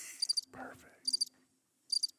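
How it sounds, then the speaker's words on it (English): Crickets chirping in three short, bright bursts spaced apart, faint and steady, with a brief low murmur between the first two bursts. "Didn't even know you had crickets on there."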